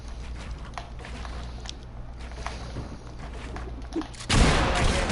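Gunshots ring out in a squads video game match, as a patter of quick cracks over a steady background that gives way to a loud sustained burst of fire near the end.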